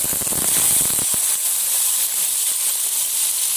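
Washed potatoes hit hot oil in a pan for aloo bhujia, giving a loud, steady sizzling hiss with a brief burst of crackle as they go in, no one speaking.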